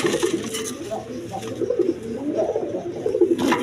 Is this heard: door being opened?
no